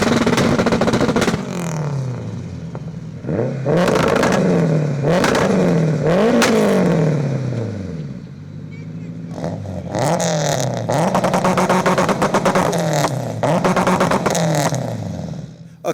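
Modified front-wheel-drive Honda race cars, including 760HP and 500HP EP3 Civics and a 700HP EJ6, rev hard in repeated loud bursts that rise and fall sharply. The engines are close and the rev-ups crackle, with some talk heard among them.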